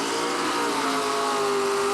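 Mud racing trucks at an AMRA event, including a Mossy Oak Mudslinger and one with bullhorns on the roof, with engines revving in a continuous loud, strained roar that climbs steadily in pitch.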